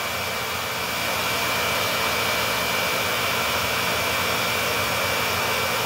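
Shark ZU560 Lift-Away vacuum running at maximum suction with the relief valve closed and the brush roll on high, giving an even, unbroken motor roar with a faint steady whine, close and continuous.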